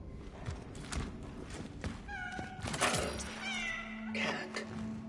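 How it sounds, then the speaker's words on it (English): Cat meows in the video game Cronos: The New Dawn, several short rising cries over low game ambience and thuds, close and fairly clear. "Oh, there's the cats I was referring to."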